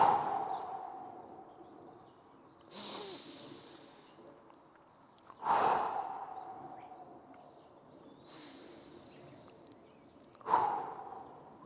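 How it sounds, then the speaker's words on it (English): Three long, slow exhales during a hip mobility stretching exercise, each a breathy rush of air that swells and fades, close and alone with quiet pauses between. "Longer breath out."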